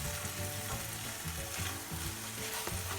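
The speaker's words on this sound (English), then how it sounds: "Just mix it well together" Spinach being stirred into thick dal in a frying pan, a loud continuous sizzle and bubbling with soft scraping of the spoon, close up and alone.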